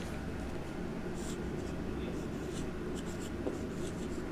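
Marker writing in blue on a classroom board, a faint, steady squeak and scratch over a low room hum, with no talking.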